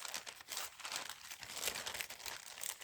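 Postage stamps still on bits of envelope paper being grabbed and handled by the handful, a close, continuous dry crinkling and rustling of paper with no talk.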